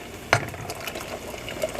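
Beans poured into a pan of cooked onions and garlic for pasta fazool, a single sharp splashing pour near the start followed by soft, steady liquid sizzling and faint settling sounds.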